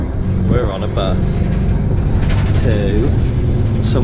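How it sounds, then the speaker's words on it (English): Riding on a bus near Gibraltar: a loud, steady rumble of the moving vehicle fills the cabin while people talk and exclaim over it. "We're on a bus."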